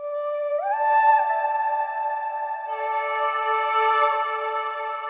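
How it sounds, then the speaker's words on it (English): Processed, pitched vocal chop sample from Arcade's Distant Voices bank, Spectral preset, sustaining a smooth tone that slides upward, then a second voiced layer joins, airy and synthetic, with no other instruments. "Then I decided to add a vocal chop from Arcade that sound like this."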